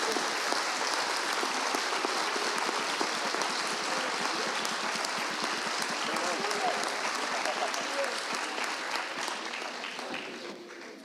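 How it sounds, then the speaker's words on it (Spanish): An audience at a talk on political humor in Colombia gives sustained applause, dense and steady for about ten seconds before tapering off at the end. "Un aplauso, por favor, para Alexandra."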